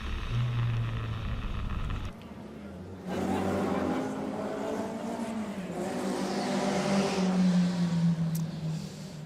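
Loud engine noise with a rising and falling pitch as race cars roar past on the Charade circuit in France, alongside a steady mechanical drone and crowd-like background.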